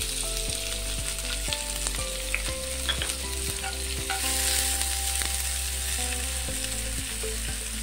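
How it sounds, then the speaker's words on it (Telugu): A cup of onions dropped into hot oil fries with a steady, loud sizzle, while a spoon scrapes and stirs in repeated knocks against the pan. No one speaks. "ఆయిల్ హీట్ అయిపోయిన తర్వాత ఇప్పుడు ఇందులో 1 కప్పు ఆనియన్స్ యాడ్ చేస్తున్నాము."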